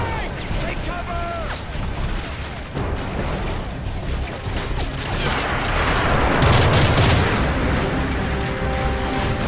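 A tank fires during a Call of Duty: Modern Warfare 3 battle, heavy booms and continuous gunfire rumbling throughout as a loud, dense wall of combat noise, with shouted voices over it.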